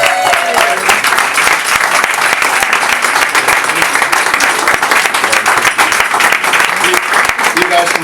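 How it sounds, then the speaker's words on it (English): An audience at a hospice charity calendar launch in Hereford claps steadily in sustained, dense applause, loud and close throughout. "give them a rousing round of applause"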